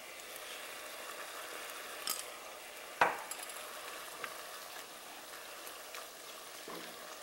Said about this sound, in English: Mix it together.